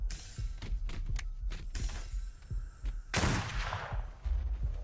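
Gunfire during a hunting-trip roleplay video game: a rapid string of sharp, close bangs and cracks, then a bigger burst with a rushing, shattering tail, fairly loud with no talking.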